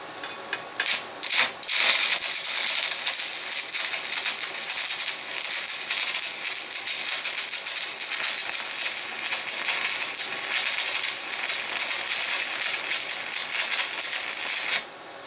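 Stick welding with a used 3/32 rod on a VEVOR MMA 200 welder: steady, harsh crackling hiss runs almost continuously after a few short sputtering starts, loud and close, with no voices.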